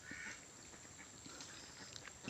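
Domestic ducks over three years old quack faintly on a small farm, a few scattered, soft calls over a steady low background hiss, with no one speaking.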